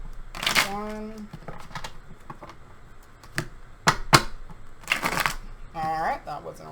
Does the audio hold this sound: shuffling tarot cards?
yes